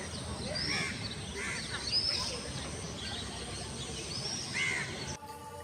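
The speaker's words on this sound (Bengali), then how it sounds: "সকালবেলা মানুষের কোলাহল নেই ঠিকই পাখিদের কোলাহল শোনা যাচ্ছে" Birds call in a park on a quiet early morning, a few crow-like caws and short chirps scattered through a steady outdoor hum, moderately distant with no talking.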